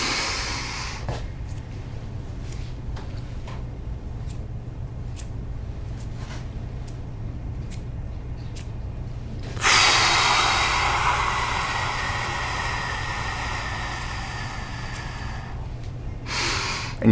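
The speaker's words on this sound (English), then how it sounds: "you go right back into inhaling for 4 seconds, hold your breath for 7, exhale for 8" Paced breathing for relaxation: slow, soft breaths with a long held silence, then a long, steady airy exhale that trails off, heard close and alone with no talking.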